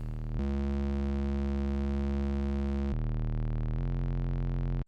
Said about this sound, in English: So we get the harmonics from the DS-Son tri-wavetable, but now the sound is a bit richer.